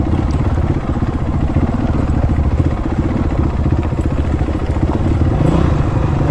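A Honda CRF250X dirt bike engine runs loud and close while being ridden, a steady, rough, throbbing drone that holds for the whole stretch with slight rises in revs.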